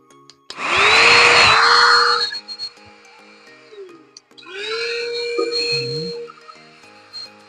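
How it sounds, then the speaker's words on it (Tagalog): An air blower runs in two loud bursts, used to clean a One Solar 3kW 24-volt inverter, with whooshing airflow and a rising whine, separated by a short pause. "Tapos, berahin natin ang blower."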